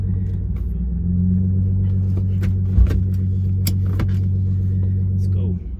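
A BMW E36 drives with a steady, loud low engine drone, its seat not fully bolted down and no power steering, with a brief thump near the middle and a drop in the hum at the end.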